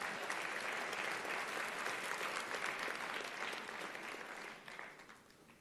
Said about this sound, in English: Round of applause for Raleigh Gordon.